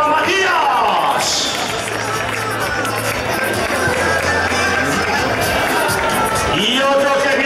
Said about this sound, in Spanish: Ese aplauso para Juan Carlos y ese aplauso también para Matías.